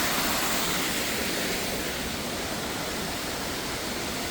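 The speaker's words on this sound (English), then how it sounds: "here's a third waterfall." A waterfall in the Thanksgiving Point garden pours in a soft, constant hiss of falling water, fairly quiet and unchanging, with no voices over it.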